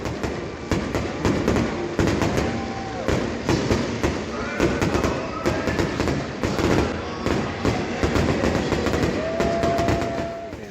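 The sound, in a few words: fireworks show after a baseball game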